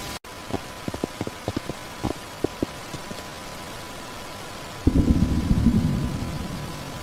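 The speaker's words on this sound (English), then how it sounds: "Oh no, is it raining?" Rain falls on a surface, the sound opening with a few sparse drops that build into a steadier patter, nearby and moderately loud.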